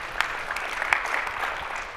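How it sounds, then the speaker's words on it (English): A conference audience applauds, scattered claps rising to a few sharper peaks within a light, steady patter in a large room. "Oh, but you really can clap for this"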